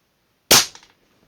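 A Friedrich Langenhan Gem airgun fires a dart: one sharp, loud crack that snaps on and trails off quickly into a short rattle, with silence before and after.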